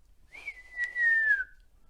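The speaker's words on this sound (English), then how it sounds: "The page whistles." A page's single clear whistle in a staged scene of Romeo and Juliet, one sustained, slightly falling tone lasting about a second, close and alone with no talk.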